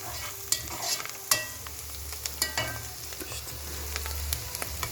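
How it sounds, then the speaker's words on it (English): Onions sautéing in a pot for goulash stew, a soft continuous sizzle broken by sharp spoon-against-pot knocks and stirring scrapes, fairly quiet and close, with no voices. "we don't have to be too fussy with the sauteing process"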